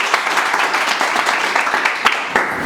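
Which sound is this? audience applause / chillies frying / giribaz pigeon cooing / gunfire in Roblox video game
audience applause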